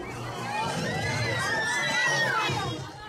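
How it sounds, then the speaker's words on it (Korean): At a children's event in the Philippines, a crowd of children in Santa hats cheers and shouts excitedly as a large Jollibee mascot enters, a burst of high, bright voices rising together then fading slightly. "큰 인형이 들어서자 함성이 쏟아집니다"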